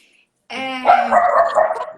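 A dog barks close by, a quick burst of several sharp, overlapping barks following a brief silence, fairly loud with no talking over it.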